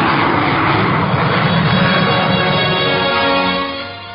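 A Gloster Meteor jet aircraft climbs at full power, its engine a loud, continuous broadband roar that holds steady and then fades slightly toward the end, with no speech.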